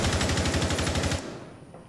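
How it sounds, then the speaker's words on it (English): Rapid automatic gunfire in a competitive video game match, a fast rhythmic burst of shots fired through walls, loud and close, stopping abruptly with a short fading tail. "just trying to wall bang a bit"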